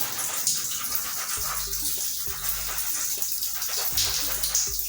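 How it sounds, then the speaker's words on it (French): Water runs and splashes while hair is rinsed during a hair-washing routine, a steady close gush with brief low tonal sounds and a few soft bumps. "je vais rincer le cheveu"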